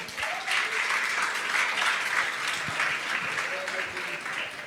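A church congregation applauds together during a sermon, a steady wash of clapping that holds through the whole stretch at an even level, with a voice speaking faintly underneath.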